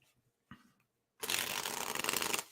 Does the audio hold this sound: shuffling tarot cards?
yes